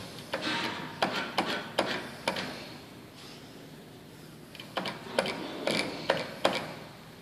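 A claw crane game machine at a Walmart store whirs and clacks as its mechanism moves, with two bursts of quick mechanical ticking and knocking separated by a quieter pause, no talking.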